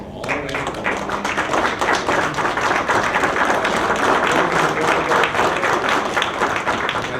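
An audience at a Mexican legal lecture applauds a newly named vice president, a loud, dense and sustained burst of clapping from many hands that starts abruptly and continues evenly for about seven seconds.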